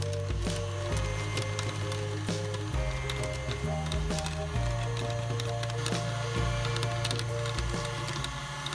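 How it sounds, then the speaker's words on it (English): A KitchenAid stand mixer running a food grinder attachment at speed 6 grinds meat, giving a steady loud motor drone with crunching and splintery grinding textures throughout, no voices. "I moved it up to speed 6 and it moved a lot faster and it seemed to grind a lot better"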